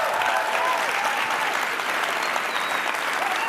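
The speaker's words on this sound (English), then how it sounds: "Can we give Alyssa one more round of applause?" An audience at a keynote stage gives sustained applause, continuous dense clapping with crowd cheers and whoops, loud and even throughout the short stretch.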